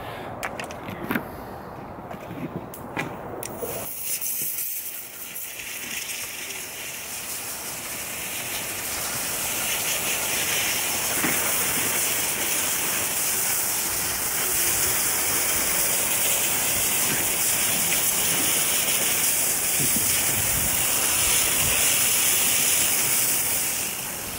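A hose or pressure washer sprays water over a grimy winter bike, a steady loud hiss that starts after a few seconds of handling noises and builds, then runs continuously to the end.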